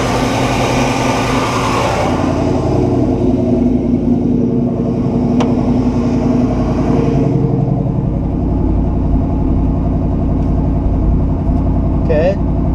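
A 1969 Buick Special Deluxe V8 running on its electric choke rumbles steadily close by, its throttle blipped into a rev early on before settling back toward idle, with someone talking over the engine.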